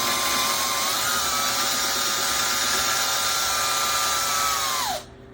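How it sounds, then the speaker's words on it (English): A power drill bores a hole into a guitar neck, a steady high whine that holds for about five seconds, dips slightly in pitch as it works, then stops abruptly. "We're going to drill straight"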